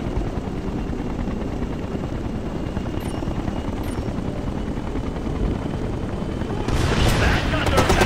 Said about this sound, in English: You've got hostile choppers inbound on your position.